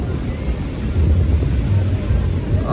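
A 4x4 Ford Ranger pickup drives through sand on an off-road outing. The engine drones low and steady with some wind rumble, and voices are faintly mixed in.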